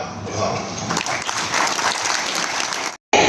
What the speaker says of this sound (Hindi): तालियां आपकी ओर से लगातार होती रहे